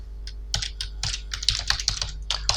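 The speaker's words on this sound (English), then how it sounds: "let's try to type like in Excel" Keystrokes on a computer keyboard while entering a formula in Power BI, a quick irregular run of close, crisp taps with short pauses between bursts, no voices.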